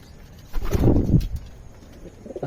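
Pigeons coo in a short burst of low throaty murmuring, close by, fading to quiet rustle after about a second.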